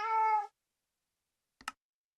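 A single in-game cat meow from the Minecraft Direwolf20 1.7.10 modpack rings out clearly for about half a second, followed by silence and a brief faint click or knock.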